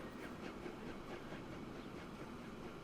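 An 1825 Stockton and Darlington Railway train in Transport Fever 2 runs through a station without halting. A low continuous rumble carries soft periodic clacks of wheels over rail joints, steady and subdued throughout.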